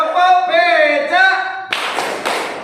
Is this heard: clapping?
yes